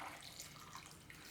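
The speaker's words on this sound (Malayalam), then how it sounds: "ഇനി ഇതിലേക്ക് നമുക്ക് ആവശ്യത്തിന് വെള്ളം ഒഴിച്ചു കൊടുക്കാം." For a sadya-style kurukku kalan, water is poured into the spiced curry base in one brief, continuous, faint splashing stream heard alone.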